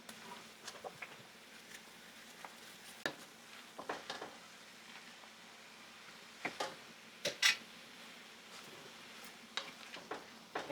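Chow mein noodles tossed in a pan with oyster sauce, soft scraping and stirring with a faint sizzle, quiet overall with a few louder clinks of utensil against the pan.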